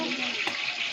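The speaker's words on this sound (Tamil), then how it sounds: "எண்ணெய் வந்து பார்த்திங்கன்னா இப்போ நல்லா கொதிச்சுக்கிட்டு இருக்கு." Oil bubbles hot in a pot for biryani, a dense, even crackling sizzle heard up close for a moment.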